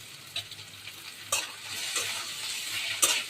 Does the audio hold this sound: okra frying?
yes